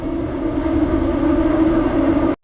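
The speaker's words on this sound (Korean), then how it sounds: "곧 밀락역에 접근 중인 지하철." Busan Line 2 subway train nearing Millak station, a loud steady rumble of rail running heard from inside, continuous until an abrupt cut at the very end.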